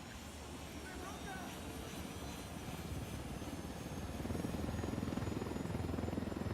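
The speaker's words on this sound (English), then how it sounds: "I gotta take this plane." Plane engine in Ghost Recon Wildlands, a steady droning aircraft hum that builds and grows louder toward the end, running continuously under a voice.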